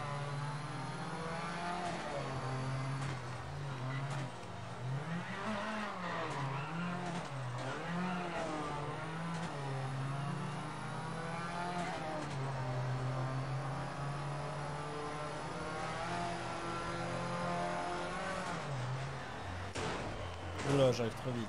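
A rally car in Colin McRae Dirt races with a loud engine that rises and falls as it revs and shifts through gears, steady throughout, while someone talks over it.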